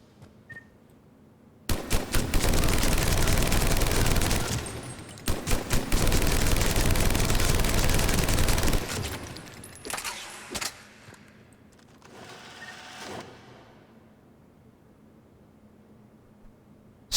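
Typhoon rapid-fire weapon in Mass Effect 3 at target practice, firing two long, loud, sustained bursts, then several shorter bursts that taper off into quiet.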